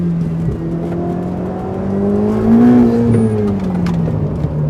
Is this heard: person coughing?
no